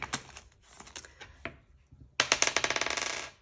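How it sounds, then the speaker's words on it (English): Dice roll across a surface in a rapid burst of sharp clicks and clatters, loud and close, during a weekly UK cash-stuffing budget challenge. Scattered tapping comes first, then a dense rattling run that slows toward the end. "let's roll the dice"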